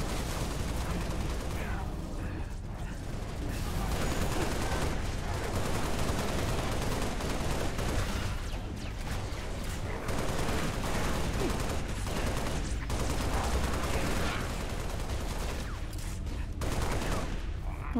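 Sustained gunfire from a weapon in the Halo Reach video game, rapid bursts and volleys running nearly continuously at loud level, with some talk underneath.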